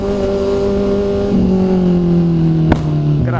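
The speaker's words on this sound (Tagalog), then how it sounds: "Grabe na ang backfire." A Kawasaki motorcycle engine drones and shifts pitch in traffic on MacArthur Highway. A sharp exhaust backfire bang cracks out near the end, followed by a second, smaller pop, all close and loud.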